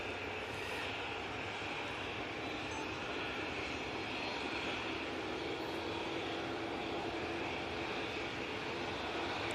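An airliner bound for Pisa begins its takeoff roll, its jet engines a loud, steady, broadband roar that holds unbroken from start to finish.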